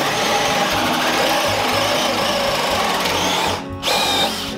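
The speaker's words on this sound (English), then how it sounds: "holding the drill just like this" A power drill whirs loudly and continuously as it bores into wood while building a shaving horse, briefly dipping in pitch near the end before revving back up.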